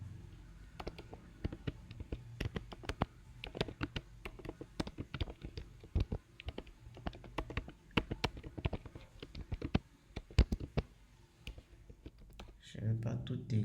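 Soft, irregular clicks of typing on a computer keyboard tap on at an uneven pace, quiet and close, with a voice speaking briefly near the end.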